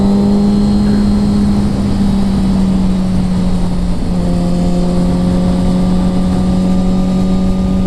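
A 2007 Kawasaki ZX6R Ninja 600 cruises in 6th gear, its engine holding a steady, loud drone with a slight change in pitch partway through, while wind rushes past throughout.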